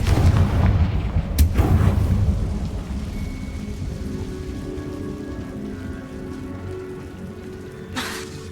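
A Confringo fire spell cast in the Hogwarts Legacy video game: a sharp blast bursts out near the start, followed by a long, dense crackling rumble that slowly fades, with a brief flare near the end.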